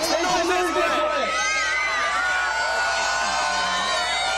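Crowd at Skagit Speedway cheering and shouting loudly, with excited children's voices and whoops rising over a continuous roar, alone without an announcer speaking.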